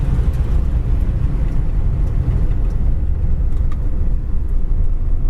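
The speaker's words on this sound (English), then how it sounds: "Here's our brakes at high speed." Steady, loud road rumble from a 1959 Ford retractable braking from high speed, a continuous low roar with no clear engine rev changes.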